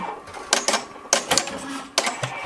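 Melco embroidery machine stitching out letters, quick mechanical clattering bursts in an uneven rhythm, close and moderately loud.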